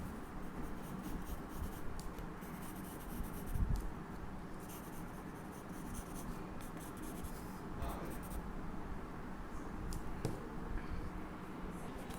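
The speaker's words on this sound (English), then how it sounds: "Follow me to draw the rough sketch." Pencil sketching a rough torso outline on paper, with repeated close scratchy strokes and light rubbing in quiet, irregular bursts.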